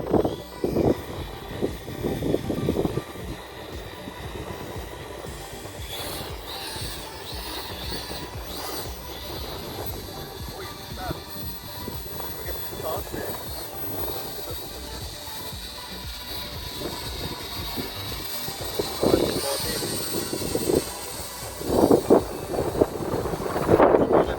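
A small Richie 4DRC 4DV4 toy drone takes off with a steady buzzing whine of motors and rotors, accompanied by wind rumble on the microphone and some clattering handling noise, with brief louder surges.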